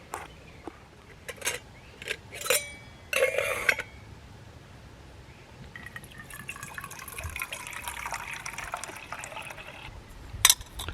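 Water pours steadily into a small single-cup coffee brewer from a compact cooking kit, a continuous close trickling fill lasting several seconds after a few light clinks and taps.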